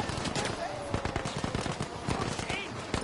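Rapid gunfire rattles in the video game Battlefield V, dense bursts of machine-gun and rifle shots crackling fairly close and continuous, while someone talks over the shooting.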